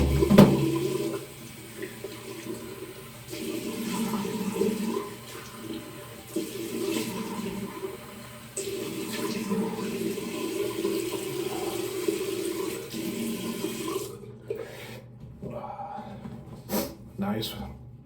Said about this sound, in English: I'm gonna splash some cold water on my face and be back.